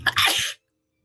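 A single sharp, close sneeze bursts out loudly for about half a second, then cuts to silence.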